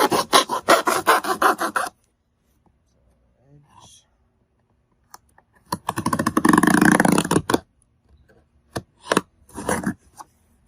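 Cardboard box cut down to size for shipping an amplifier, heard as bursts of rough rasping and scraping, close and loud, separated by quiet gaps with a few small knocks.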